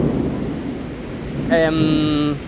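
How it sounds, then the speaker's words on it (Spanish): Thunder rolls during a storm over a stadium under construction, a low rumbling wash with rain, followed by a sharp bright tonal sound, loud and close. "los truenos y relámpagos que hay por ahí"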